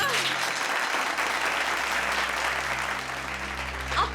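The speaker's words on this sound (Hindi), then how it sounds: "तालियां!" A small crowd at a girl's birthday party applauds steadily for about four seconds, a dense patter of hand claps fading slightly near the end, with a voice speaking over the top.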